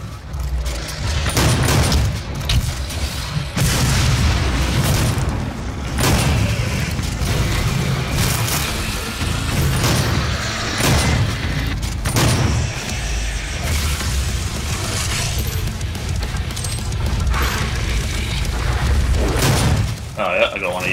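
The super shotgun in the Doom video game fires loud, booming blasts again and again at an irregular pace, amid other game noise, with someone talking over the shots.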